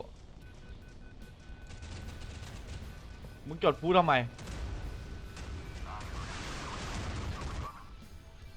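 Explosions and gunfire boom from the Modern Warships naval combat game, a few heavy blasts standing out over a rumbling battle bed while players talk over it.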